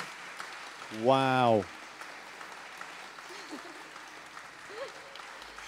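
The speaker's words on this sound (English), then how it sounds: "let's applaud them" A church congregation at a Sunday youth-takeover service claps for its young people, a faint, steady wash of distant applause running throughout, with one voice briefly exclaiming near the start.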